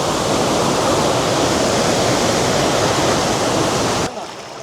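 A rushing waterfall stream at Dim Pahar in Thanchi, Bandarban, swollen by heavy hill rain, roaring as a loud, dense, unbroken wash of water close by until it drops away abruptly near the end.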